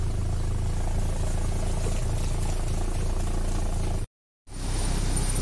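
Suzuki Feroza engine held at raised revs during a radiator flush, a steady loud mechanical drone that runs unbroken, drops out briefly near the end, then returns.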